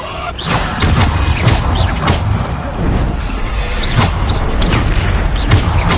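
Depulso force spells blasting in Hogwarts Legacy, a loud run of repeated booming impacts and crashes about every half second, dense and close with game effects layered over each other.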